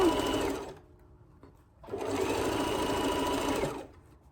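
Sewing machine stitching the bottom edge of a fabric face covering in two close, steady bursts separated by a short pause.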